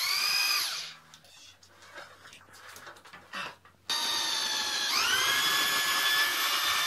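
A power drill spins a flexible drill bit against steel, giving a high whining motor tone that cuts out, leaves a quieter scraping gap, then starts up again loud and steady, its pitch rising as it spins up.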